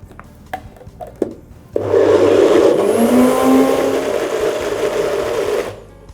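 A food processor blitzes cottage cheese with lemon juice, starting abruptly after a few small clicks and knocks, then running as a loud, steady whirring motor for about four seconds before cutting off.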